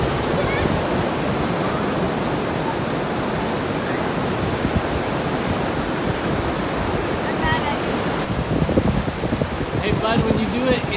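Ocean waves washing up on a sandy beach, a steady broadband roar of surf rolling in and draining back, close and continuous, with faint voices of people near the water.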